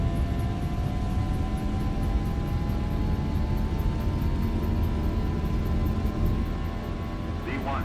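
A Zibo Boeing 737-800 in X-Plane 11 makes its takeoff roll out of Barcelona, with a steady, loud jet engine roar and a faint whine that rises slowly. A voice speaks over the noise.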